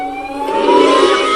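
Krayt dragon howl from the original Star Wars film, a wavering, rising synthetic wail with a rough, droning edge that stays loud and steady throughout.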